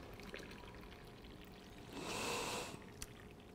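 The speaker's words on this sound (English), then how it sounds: "And you fill it up with some boiling hot water." Boiling water from a kettle pours into a teapot for mint tea, a faint, brief rush of liquid swelling for under a second against a quiet room hiss.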